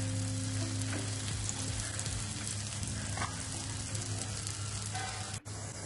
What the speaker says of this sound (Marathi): तव्यावरती थोडंसं चमचावर तूप घालतोय कढीला